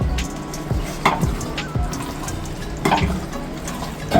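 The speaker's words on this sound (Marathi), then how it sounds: "सेजवान आपल्याला आता यांना मिक्स करून द्यायचं तर मिश्रण पूर्ण मिक्स करून द्यायचं" Homemade Schezwan chutney being stirred and mixed in a pan, with a low sizzle and a few scraping spoon strokes against the metal, close and moderately loud with no talking.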